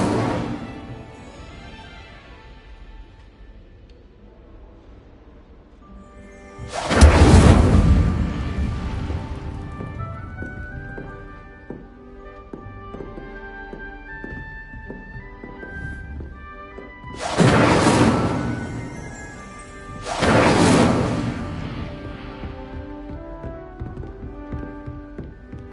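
The Incendio fire spell in Hogwarts Legacy is cast three times, each a loud whooshing burst of flame standing out over soft background music, the first alone and the last two close together.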